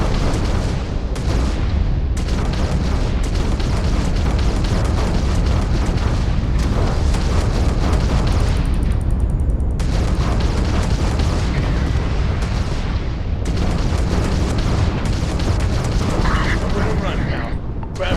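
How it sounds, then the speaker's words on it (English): Ship laser turrets firing in the Starfield space game, a dense run of loud booming blasts and bursts close up, with speech mixed in. "Just testing out the laser turrets because this is my first time with like turrets on any ship"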